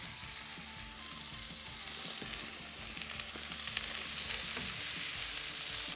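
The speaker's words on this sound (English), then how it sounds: "I'm gonna put some oil on the flat top griddle, put the burgers on." Burgers frying in oil on a flat top griddle, a steady close sizzle and crackle that holds even throughout with no talking.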